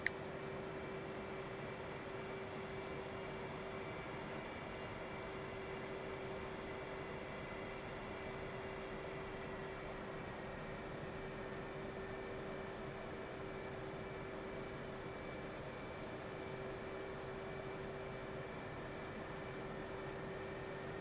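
Steady jet engine whine and hum from a military jet taxiing in the DCS flight simulator, a constant drone with a sustained tonal line and no pauses, heard from inside the cockpit.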